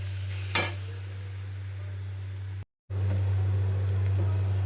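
Grated coconut frying in a pan while being stirred for mango coconut sweets, a steady low sizzle with a brief scrape near the start and a short dropout midway, no talking.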